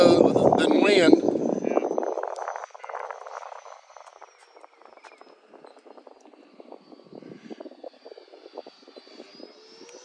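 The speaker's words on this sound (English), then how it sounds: "I don't know if you're going to be able to hear anything or not other than wind." Wind blowing into a microphone outdoors on a windy day: heavy, close buffeting roars for the first two seconds, then drops to faint intermittent gusts with a thin whine in the background.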